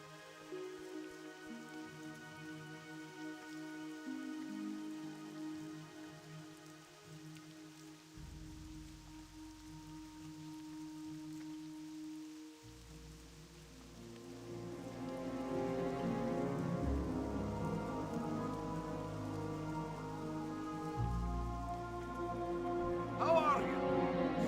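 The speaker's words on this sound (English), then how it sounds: "Some gentle rain ambience for Lochmadan." Gentle rain shower ambience in World of Warcraft at Lochmadan, soft steady patter of raindrops on surfaces beneath game music that swells and shifts, with faint talk.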